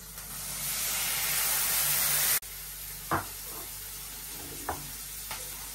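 Water poured into a pan of frying onion, tomato, turmeric, chili, salt and green chilies gives a loud, steady sizzle that cuts off abruptly, followed by quieter crackling and a few stirring knocks.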